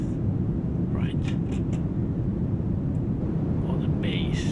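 A synthesizer noise patch built with Subsynth in Yoshimi (ZynAddSubFX) sounds as a steady, dense roar weighted toward the low end. It stays unbroken for several seconds, with faint airy sweeps flickering above it.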